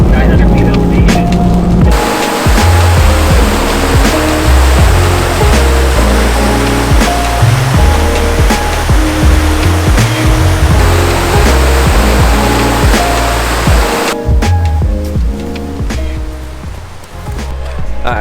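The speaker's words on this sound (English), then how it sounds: "we just stopped at a cool waterfall" Waterfall at Crystal Cascade on a rainy winter overland trip, a loud, continuous rushing roar of falling water that stays close and steady throughout.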